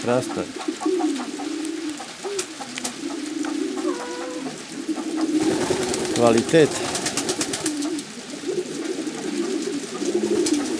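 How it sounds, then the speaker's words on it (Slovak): Modena pigeons coo repeatedly in a loft, their low throaty calls steady throughout and overlapping, with people talking nearby. "Красивый голубь."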